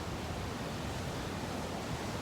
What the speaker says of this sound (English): We got huge waves today, moving along.